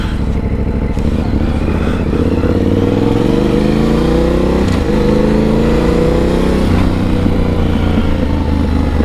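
A motorcycle fitted with a new exhaust, heard during a ride as a loud, continuous engine drone whose pitch climbs and falls through gear changes, with wind and clatter and no talk.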